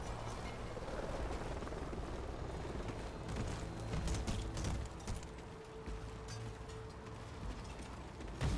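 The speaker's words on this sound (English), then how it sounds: "Friendly chopper inbound." A friendly helicopter arrives in a video game, a faint, continuous mechanical whir and rotor churn with scattered rattling bursts, steady and without talk.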